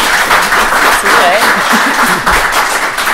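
A podium discussion audience applauds in a dense, steady wash of clapping while a voice talks over it.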